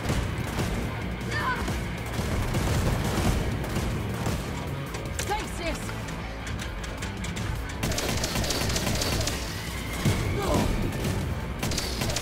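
Rapid bursts of gunfire, heavy impacts and explosions fill a chaotic firefight against Nazis in the shooter game Wolfenstein: Youngblood. Loud and continuous, with voices shouting over the battle.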